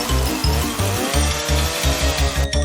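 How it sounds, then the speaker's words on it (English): Cartoon chainsaw running loud and close in a tree-cutting scene, a throaty engine snarl pulsing in rapid repeated bursts with no talk. "that's a chainsaw"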